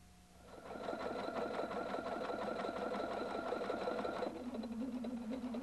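A Husqvarna Viking Designer 1 sewing machine stitches a pictogram, running steadily and close for about four seconds with a fast even needle rhythm before slowing to a lower hum.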